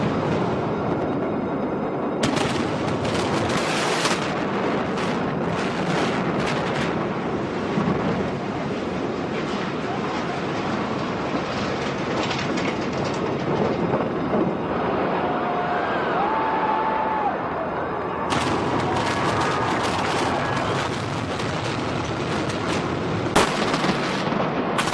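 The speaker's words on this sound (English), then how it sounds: "a series of fireballs is initiated from that cannon shot, which then starts a chain reaction in the building of the flash pots going off" Dense, sustained rumbling blasts and crackling bursts as flash pots and fireballs sweep through the 22-story Dunes Hotel in Las Vegas during its demolition, loud and continuous with sharper clusters of impacts near the start and end.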